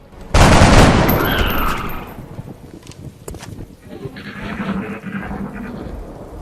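Gunfire from soldiers' rifles in XCOM: Enemy Unknown, a loud sharp burst opening the clip, followed by a crackling decaying tail and softer game ambience with tonal effects.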